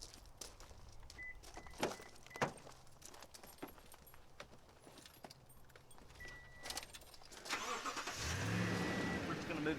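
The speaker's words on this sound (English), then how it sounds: "Now what I want to do is I want to move the tow vehicle forward." A tow vehicle at a campsite starts up after a door and rattling keys, and its engine swells to a steady, louder run as it pulls forward during the last couple of seconds.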